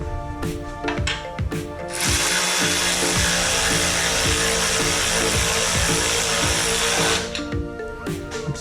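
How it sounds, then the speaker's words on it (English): An electric ratchet runs loud and close on bolts of a built bottom-end Mazdaspeed engine, a sustained buzzing whir for several seconds, framed by rapid clicking ratchet pawl action before and after. "I'm gonna go grab my electric ratchet."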